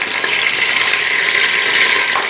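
Water splashed into a hot pan of frying garlic, giving a loud, steady hiss and sizzle that holds for a couple of seconds.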